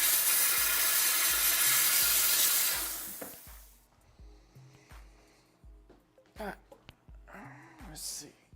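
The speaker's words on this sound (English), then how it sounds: "I'm gonna go and steam this real quick and get the wax off." A steam cleaner blasts a Hawley dental retainer to strip off wax, a loud steady hiss for about three seconds before cutting out, followed by quieter handling clicks and low hum.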